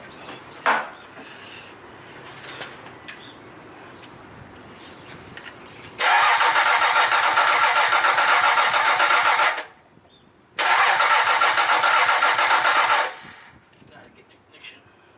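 A Toyota 7M-GE engine mounted on a furniture dolly outside the car cranks and fires, roaring loudly for several seconds, cutting off, then starting and running again, preceded by quiet clicks and shuffling.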